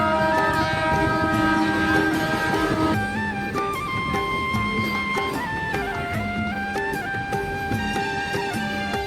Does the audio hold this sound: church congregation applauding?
no